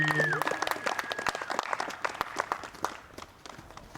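Spectators on a windy disc golf course at the 2021 Mid-America Open applaud a putt by Deann Carey. The light outdoor clapping from a small gallery fades gradually toward the end, and a brief voice and a whistle-like tone come at the start.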